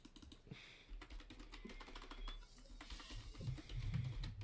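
Rapid, irregular keystrokes on a computer keyboard clatter continuously at close range, with denser bursts of clicks toward the end and no talking.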